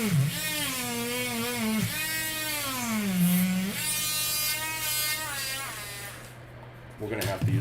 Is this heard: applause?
no